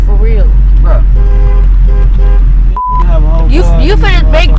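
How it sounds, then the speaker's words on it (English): A car horn toots once, a brief steady beep in the middle of loud, agitated talk from several people inside a vehicle. "Who is that keep on honking?"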